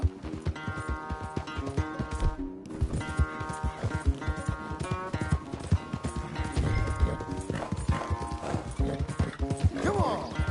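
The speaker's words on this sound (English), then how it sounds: "Where's that big mean horse?" Horse hooves clip-clop in the Red Dead Redemption 2 video game, with a rhythmic, close gait that runs throughout and brief whinny-like calls. Light game sounds sit underneath.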